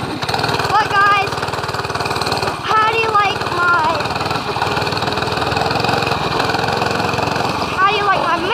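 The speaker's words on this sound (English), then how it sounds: "how do you like my mini bike riding around? My dirt bike riding around." A small mini dirt bike engine buzzes steadily nearby while the bike rides around, its revs rising and falling in short whines, with someone talking over it.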